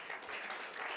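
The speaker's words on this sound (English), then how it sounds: "give all of us a big round of applause" Applause from an audience at a large DXN company gathering rises steadily, a dense, even wash of many hands clapping that holds at a moderate, slightly distant level with no voices on top.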